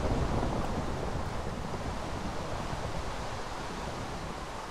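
Storm ambience in the Minecraft video game: a steady, loud hiss of rain and rumbling wind that holds evenly throughout, with no voices.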